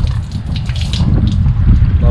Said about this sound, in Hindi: तो ये हमारे पानी है ठंडा माशाल्लाह